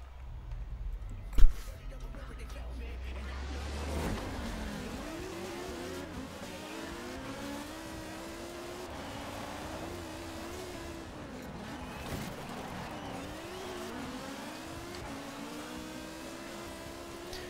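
An Audi S1 Quattro dirt racing in Forza Horizon 4, its engine rising and falling through repeated revs and gear changes, with a voice talking over it at times.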